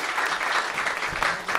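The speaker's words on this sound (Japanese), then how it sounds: "もう一度皆様盛大な拍手をお願いします" An audience applauds steadily after a lecture on the Okubo clan's rule of the Karatsu domain, a dense patter of many hands clapping close and fairly loud, with no voices over it.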